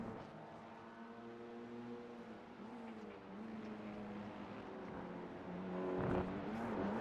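Race car engines in a racing video game at Lime Rock Park, BMW M2 G87 cars, a steady layered drone of several engines with shifting pitch, rising louder near the end as cars close in.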